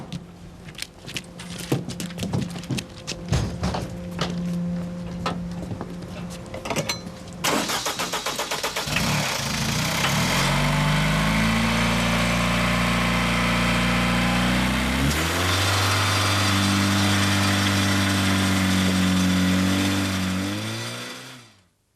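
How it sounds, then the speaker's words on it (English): An emergency fire pump engine aboard a ship during damage-control training: mechanical clatter and knocking, then the engine starts up and settles into a loud, steady mid-pitched running drone, rising once in speed before running on. "Crews are trained on one deck under rolling conditions to use emergency fire pumps to drain"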